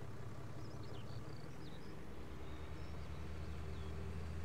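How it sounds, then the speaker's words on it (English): A tractor engine idles in Farming Simulator 19, a faint, low, steady rumble with a droning hum that holds evenly throughout the short stretch, heard alone and at a distance. "Oh, I left the tractor running."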